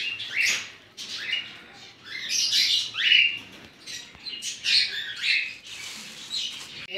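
A pair of cockatiels in a breeding cage let out repeated shrill squawks and chirps, loud and close, in uneven bursts over a soft background.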